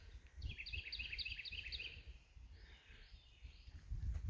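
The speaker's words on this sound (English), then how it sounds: "I guess you all can hear those birds." Forest birds sing in short bright phrases along a hiking trail on a Kentucky mountain, the repeated twittering notes fairly faint against low rustling and wind.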